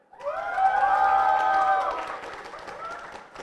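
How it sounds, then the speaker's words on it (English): A crowd at a Wellington Central election debate cheers for the Labour candidate, a loud burst of voices and whoops that swells quickly and then fades over a few seconds. "give us a cheer if you're gonna vote for them"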